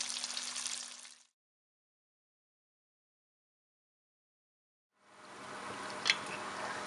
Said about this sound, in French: Donc on commence la friture dans une huile à